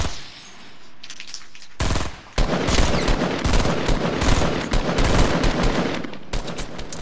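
Rapid automatic gunfire in Fortnite, loud close bursts after a short quieter lead-in, with a brief gap before a final burst.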